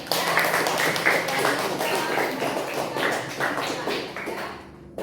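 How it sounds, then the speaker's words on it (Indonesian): Children applaud in a classroom during a Catholic religious education lesson, a loud burst of scattered clapping that keeps going for several seconds and then fades. "Mari kita beri tepuk tangan untuk Ciko."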